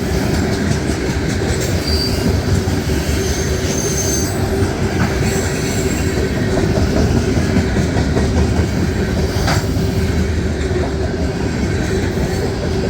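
A CSX freight train hauled by two Canadian National locomotives rolls past in Western Pennsylvania, with a loud, steady rumble of wheels on rail, clickety-clack from the cars, and faint squeals throughout.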